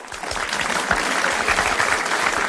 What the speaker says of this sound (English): Round of applause for that run of 86